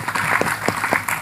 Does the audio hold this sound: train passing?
no